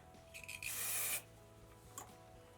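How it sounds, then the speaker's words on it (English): A short, close hiss from an aerosol can of clay hair spray sprayed at the hair roots lasts about half a second, with a few soft rustles before and after. "Using a little bit of clay spray just to give me the tiniest bit of back comb."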